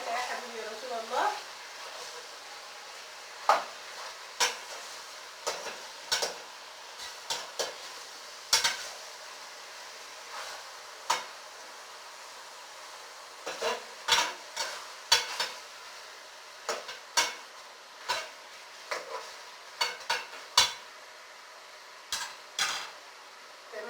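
Chicken pieces are turned in a frying pan, with a low sizzle underneath and a series of sharp utensil clicks and scrapes against the pan at irregular intervals, close by.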